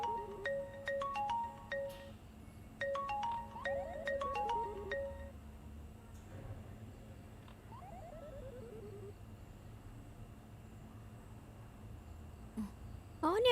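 A mobile phone ringtone plays as two short bursts of a quick, high, melodic electronic jingle early on, fairly faint over a quiet room hum, followed by calmer stretches with a few softer sliding tones.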